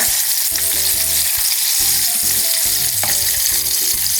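Popcorn chicken pieces deep-frying in oil, a loud, dense, continuous sizzle and crackle close up, with music underneath.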